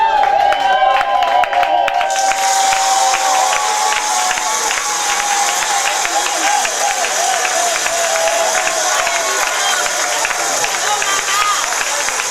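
Partygoers clap and cheer for the guests of honour at a celebration, loud, continuous applause swelling after a brief spell of voices and lingering through the room.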